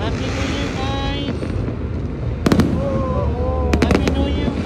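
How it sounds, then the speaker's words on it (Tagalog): New Year fireworks crackle and pop in sharp bursts against steady wind and crowd noise, with voices and cheering throughout. "These fireworks are amazing."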